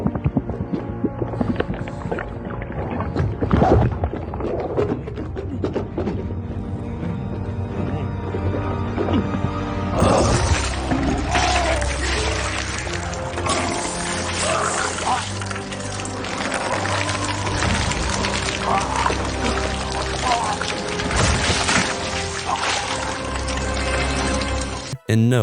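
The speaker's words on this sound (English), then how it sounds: "This is the sound of turning into a vampire." Wet, gurgling and roaring effects swell into a dense, harsh rush of distorted noise, loud and continuous, ending abruptly.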